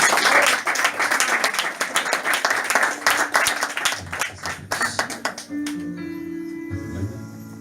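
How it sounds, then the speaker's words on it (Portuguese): A church congregation claps hard in praise, a dense rhythmic burst of many hands that thins out and stops, with a sustained keyboard tone coming in at the end. "E as palmas bem forte para o Rei da Glória."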